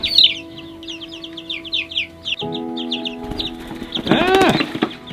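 Young chicks of a rare hatching-egg breed peeping and chirping in quick high bursts at close range, followed by a louder, fuller bird call toward the end over a steady background hum.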